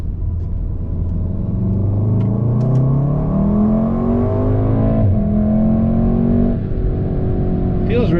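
A tuned Volkswagen Golf R Mk7 accelerates hard in second gear, its engine note climbing steadily and loud inside the cabin before a shift-like drop and a short burst of talk near the end.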